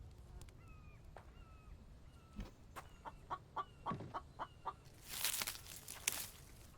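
A chicken clucks in a survival video game, giving a quick run of short clucks at a moderate distance, then a longer, noisier burst of squawks near the end. Nobody speaks over the calls.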